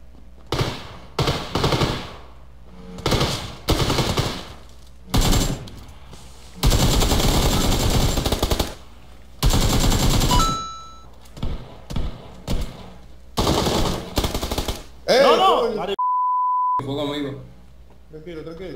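Gunfire in the mobile shooter PUBG Lite on the Sanhok map: repeated bursts and single shots of automatic weapon fire, loud and close, broken by short gaps, with a high beep near the end and players talking over it.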